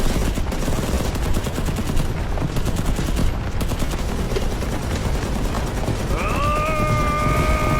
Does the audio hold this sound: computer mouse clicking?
no